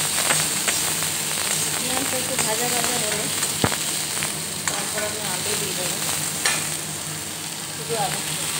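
Cumin and garlic fry in oil in a kadai wok for a potato dish, a close, steady sizzle with scattered crackles and stirring scrapes while a voice talks over it.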